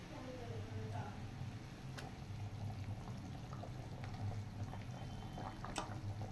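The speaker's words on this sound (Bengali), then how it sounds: "এবার জল দেওয়া হলো" Water is poured into a cooking pan alongside paneer, a sustained splashing and fizzing over low kitchen rumble, with a few sharp clinks, and a voice talks faintly in the background.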